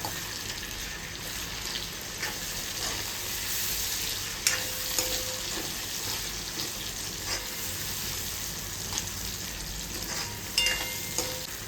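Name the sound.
chopped tomato frying in a pan with cashews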